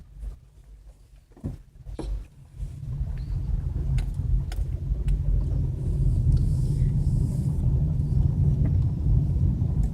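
A car drives along the Beeline Highway, with a low, steady road rumble and wind noise that builds after a quieter start and then holds, interrupted only by a few brief clicks early on.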